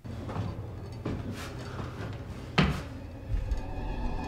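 A door moves in a scene from the horror movie Insidious: a soft creak and a few dull bumps lead to a sharp knock or clunk midway, over a low, uneasy background rumble.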